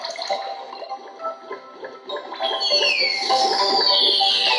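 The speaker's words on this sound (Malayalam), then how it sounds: "എന്നിട്ട് വെള്ളം ഒഴിക്കുക" Cartoon water splashes as it is poured to wash the muddy Space Man in a Kinder Joy mobile app game, starting with short chirpy game tones and building into a continuous bright whooshing pour toward the end.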